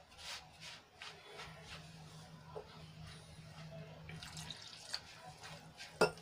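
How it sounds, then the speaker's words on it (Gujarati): Water trickles and drips steadily into a bowl of wheat-flour batter, a soft liquid patter with faint kitchen handling noises and a sharp clink near the end. "અને બીજું જોઈતા પ્રમાણમાં આપણે પાણી એડ કરીશું"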